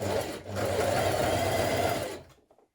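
A sewing machine runs a brief, fast edge stitch down a sweatshirt seam, one continuous close burst of about two seconds that stops abruptly.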